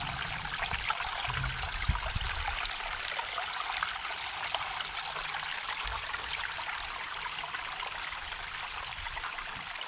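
Water rushes steadily over the stones of a garden waterfall cascade, a close, even broadband splashing and trickling that continues without pause. No voices.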